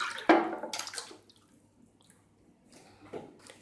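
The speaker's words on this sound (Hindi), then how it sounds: "ये भीगी हुई खुबानियाँ पानी समेत देगची में मैं डाल रही हूँ।" Soaked dried apricots and their soaking water are tipped into a cooking pot with a quick splash, followed by a few faint drips and trickles, close by in a quiet kitchen.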